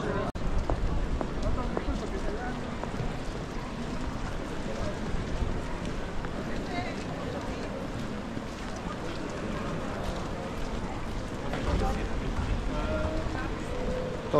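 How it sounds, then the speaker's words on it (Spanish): Rain patters steadily on surfaces all around in Vienna, Austria, a continuous wet hiss with faint voices in the background. "Aquí estamos mojándonos un poco en la lluvia."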